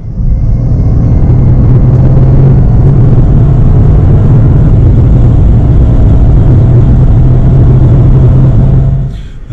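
A DS3 Crossback THP 155 engine drones loudly and steadily while driving, a dense low rumble that holds for several seconds before dropping away at the end.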